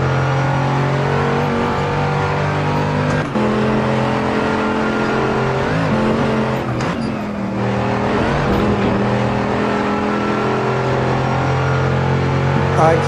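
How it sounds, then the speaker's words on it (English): A steady, loud engine growl from a car in the Assetto Corsa VR racing game on a Los Angeles canyon road, holding a constant drone with a brief dip and rise in revs midway. "The car's sounds are a lot better in this game."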